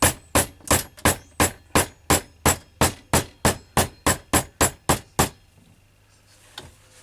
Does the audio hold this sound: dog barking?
no